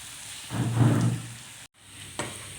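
Chana dal sizzling as it fries in a pan for a paratha filling, a loud crackling burst swelling and fading over about a second, then quieter hiss with a brief stir or clatter.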